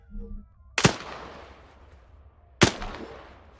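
Two loud gunshots in the video game Arma 3, spaced about two seconds apart, each a sharp crack with a lingering tail.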